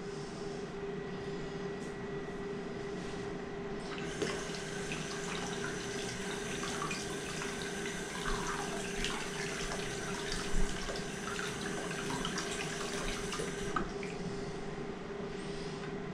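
Water runs steadily from a tap into a sink while makeup brushes are washed, a continuous close splashing stream that swells louder for several seconds in the middle, with occasional small clinks.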